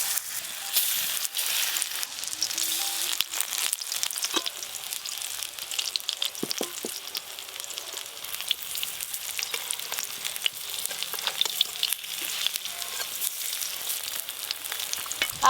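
Pea fritters frying in oil, with a continuous close crackling sizzle and scattered pops and spatters over the whole stretch, no talk.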